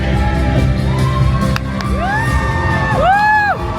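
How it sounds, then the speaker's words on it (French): Festival audience at Japan Tours Festival cheering and whooping in a loud, continuous crowd roar, with rising shouts and whistles over a dense wall of noise. "Merci d'avoir applaudi tous nos participants"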